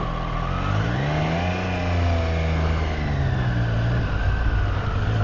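A Triumph 765 R motorcycle engine pulls away, its loud, close drone rising and falling in pitch as the throttle opens and the bike accelerates, steady throughout with no voice over it.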